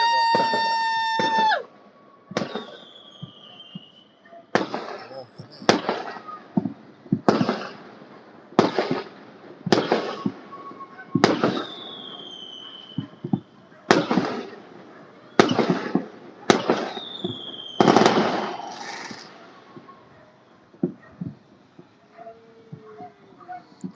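New Year fireworks burst over Ho Chi Minh City in a series of loud booming explosions spaced a second or two apart, with whistling rising shells and crackle. People talk and exclaim nearby, and a dog barks now and then.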